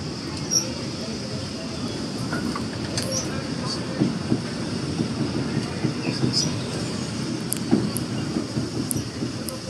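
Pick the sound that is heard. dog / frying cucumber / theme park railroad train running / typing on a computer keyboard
theme park railroad train running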